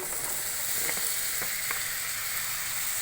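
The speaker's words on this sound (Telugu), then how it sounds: "ఇప్పుడు తరిగి పెట్టుకున్న తమ్మకాయ ముక్కలు కూడా వేసేసుకుందాము" Chopped vegetable pieces sizzling in hot oil with softened tomatoes in a pan, a steady close frying hiss with a few faint stirring clicks.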